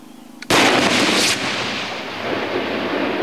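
A rocket launcher fires at glass: one sudden, very loud close blast that cuts through a quiet background, then a long roaring rumble that fades out over the next few seconds.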